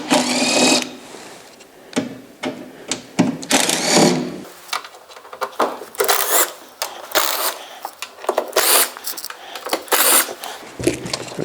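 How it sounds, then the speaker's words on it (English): A cordless drill fitted with a T20 Torx star bit backs screws out of a Santa Fe Compact dehumidifier, whirring in loud, short bursts with brief pauses between each screw. "I'm going to use a drill just a little bit quicker"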